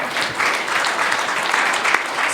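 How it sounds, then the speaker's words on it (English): Studio audience applauding a recovery-talk guest, a dense steady wash of many hands clapping close and loud throughout, with no voices over it. "So let's give our guest a big round of applause."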